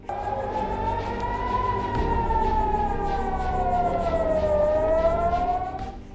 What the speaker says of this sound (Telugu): ఐడిఎఫ్ తర్వాత ఇజ్రాయెల్లో సైరన్ల మోత మోగింది